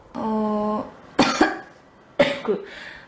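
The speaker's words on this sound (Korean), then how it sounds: "선생님, 저 기침이 너무 심해서 왔는데" A girl coughs in two sharp, harsh bursts, each a cluster of rough hacks, after a short hum or throat sound, close and loud against a quiet room.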